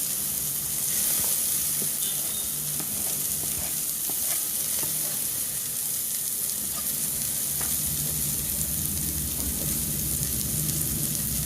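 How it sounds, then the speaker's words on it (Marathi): Finely chopped onion frying in a pan for raw jackfruit sabji, a steady close sizzle and hiss with faint stirring scrapes and no talking. "थोडं जरा परतलं की आपण एक मोठा मीडियम साईजचा कांदा आहे तो बारीक चिरलेला आहे तो सगळा घालूया"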